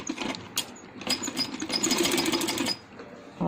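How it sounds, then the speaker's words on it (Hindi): A sewing machine running straight stitches on a handmade baby boy's dress, a fast, even mechanical chatter that starts and stops in short runs, close and clear. "इसको बराबर करके सीधी सिलाई लगाएंगे"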